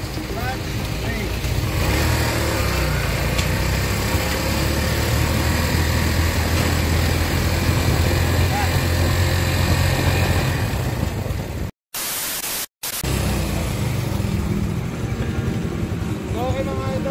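Kawasaki Barako 175 motorcycle engine running steadily while the rider works the clutch and brake, a loud continuous close rumble with a brief cut near the end before resuming.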